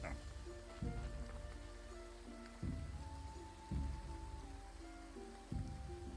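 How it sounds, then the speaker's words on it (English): Steady rain falling at night in the video game Graveyard Keeper, a constant patter layered under game music with recurring low, soft thumps. "It's raining and it's all the night."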